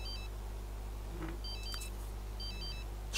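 A mobile phone ringtone from the video game The Sims 3, a short electronic melody of beeping tones repeating twice over a low steady hum, faint but clear, with no talk.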